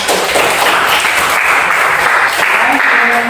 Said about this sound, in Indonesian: Aplaus untuk saya.